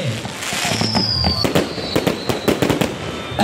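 Wedding fireworks in China bursting in a rapid, irregular series of loud close cracks and booms over a continuous crackling, fizzing background, with faint voices in the mix.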